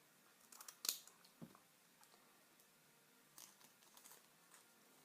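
Scissors trimming paper to fit a plastic pocket sleeve for a back-to-school craft, a few faint quick snips with light paper handling in a quiet room.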